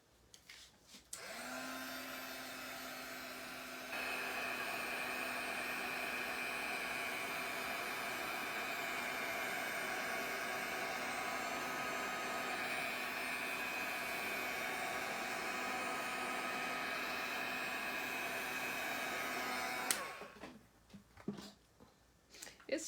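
A heat tool blows a steady, loud whooshing drone over mixed media paint, switching on after a moment and running evenly for nearly twenty seconds before cutting off, followed by faint handling noises.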